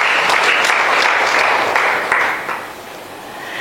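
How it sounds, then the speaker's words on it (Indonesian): An Indonesian church congregation breaks into applause during a worship sermon, dense clapping with a few sharper claps on top, steady at first, then easing off and thinning near the end. "Boleh tepuk tangan untuk saudara."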